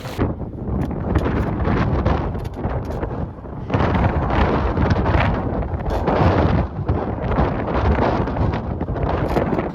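Heavy wind buffets the microphone in a loud, rumbling roar that dips briefly and then surges back, with no voices, in Nevada.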